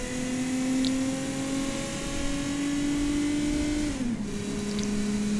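A V6 car engine in a video game holds a steady, high tonal drone, then drops slightly in pitch as the throttle eases going around a bend, continuous and unaccompanied by speech.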